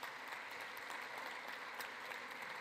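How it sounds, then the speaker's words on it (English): Democrats in Congress applauding, a faint, distant wash of clapping that holds steady without clear individual claps. "The Democrats finally clapping?"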